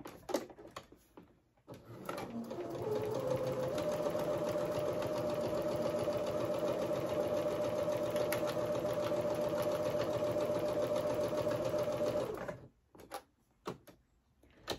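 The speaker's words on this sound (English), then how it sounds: "I'm going to sew a straight line down the top of my pocket" A sewing machine runs steadily for about ten seconds, stitching a straight line down the top of a fabric pocket, with a close, even mechanical hum and rapid needle rhythm. Brief handling noises come before and after.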